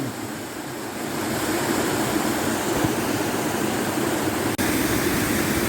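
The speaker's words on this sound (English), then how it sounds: "Above the quarry, the beck tumbles through a steep, narrow ravine." Torver Beck, a mountain stream, tumbles through a steep, narrow rocky ravine above a quarry in a dense, continuous rushing roar that swells after the first second and stays loud, with no voices.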